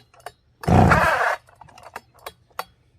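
A Poulan 3400 Countervibe chainsaw gets a pull-start attempt after a squirt of fuel in the carb, giving one loud, short burst of engine noise for about a second before cutting out, followed by faint clicks and handling sounds.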